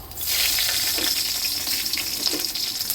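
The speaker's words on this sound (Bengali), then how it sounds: "এই তেলের মধ্যেই দিয়ে দিচ্ছি ফোড়ন, কয়েকটা পাঁচফোড়ন দিলাম আর কয়েকটা কাঁচা লঙ্কা" Panch phoron and green chillies sizzle vigorously in hot oil in a kadai, a steady close crackling hiss with small pops, heard alone.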